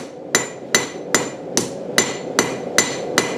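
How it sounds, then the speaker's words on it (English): A hammer strikes hot metal on a Vevor anvil while a point is drawn out in blacksmithing practice: eight sharp, ringing metallic blows fall at an even, quick rhythm, loud and close, with no talking. "hot metal on an anvil. I'm just practicing drawing out a point."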